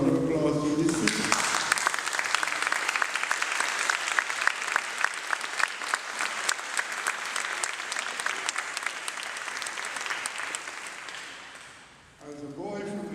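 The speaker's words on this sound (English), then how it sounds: "could everybody give a round of applause to these people?" Audience applause for the speakers at a symposium: a long, steady burst of many hands clapping in a hall, loud and sustained for about ten seconds before fading, with brief voices at the start and end.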